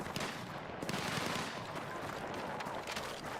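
Gunfire from snipers on a hill in a Battlefield beta Conquest match, dense overlapping shots crackling continuously and fairly close throughout.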